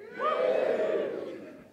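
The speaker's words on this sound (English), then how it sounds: "please put your hand in the air and give me a big cheer" Conference audience giving a big cheer with hands raised, a single swelling roar of voices and whoops that peaks quickly and fades, fairly loud and filling the room.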